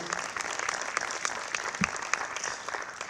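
A crowd gives a sustained round of applause at a community center ribbon cutting, steady dense clapping filling the room with a few sharper individual claps standing out.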